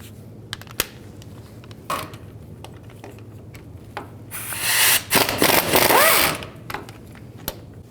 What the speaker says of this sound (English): Take these axle bolts out. Use a 15mm socket.